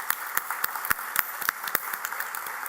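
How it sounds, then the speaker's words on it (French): An audience at an evening awards event for history merit, held at a college, gives applause: an even, moderate patter of clapping with a few sharper individual claps standing out, fairly distant and steady throughout. "Je pense qu'il mérite une main d'applaudissement"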